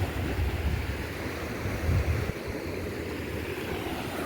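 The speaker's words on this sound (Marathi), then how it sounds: "बघा लाटा कशा" Ocean waves rolling in off an island as a continuous low roar, with a louder surge partway through and wind noise over the microphone.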